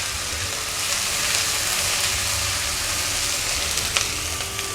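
Ginger garlic paste frying with browned onions in a pan, giving a dense, steady, loud sizzle close by that runs throughout without any pause.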